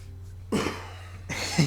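Two short, forceful coughs a moment apart, close and fairly loud, over a low background hum.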